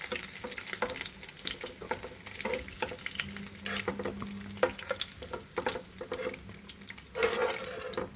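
Chicken pakodi fries in hot oil with a constant close sizzle, while a spoon stirs and knocks against the pan in irregular bursts and no one speaks.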